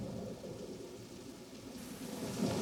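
Steady rain with low rumbling thunder in a film storm scene, a continuous wash of downpour that swells slightly near the end, with no voices.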